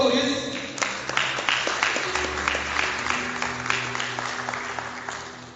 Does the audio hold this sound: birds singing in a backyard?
no